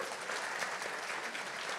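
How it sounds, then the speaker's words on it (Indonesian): An audience at a church feast gathering applauds in a steady, dense wash of clapping that holds at an even level for about two seconds. "Tepuk tangan dong buat Anda."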